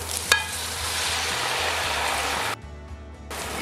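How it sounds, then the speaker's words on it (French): Tomato frying in a pan makes a loud, steady sizzle close up, with a brief stirring clack near the start and the hiss cutting out abruptly before resuming softer. "on fait griller un peu la tomate"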